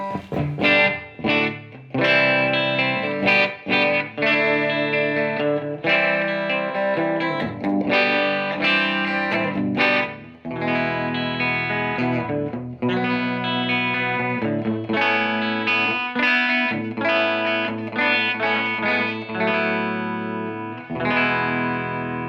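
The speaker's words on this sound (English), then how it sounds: "So here we are in the Fender clean in the bridge position with the Ibanez AS73." Ibanez AS73 semi-hollow guitar through a Fender-style clean amp on the bridge pickup, playing strummed chords and picked phrases, loud and steady with brief gaps between passages, alone without talk.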